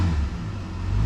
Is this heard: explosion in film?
no